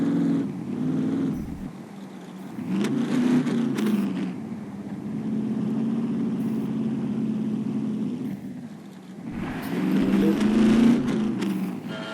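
A car engine in the survival video game SCUM revs and drones while driving, its low hum swelling and easing in several waves, with someone talking over it at times.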